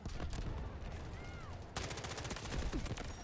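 A K-416 assault rifle in the Delta Force shooter fires in rapid automatic bursts, a dense rattle of close, loud shots that briefly pauses and then resumes even harder.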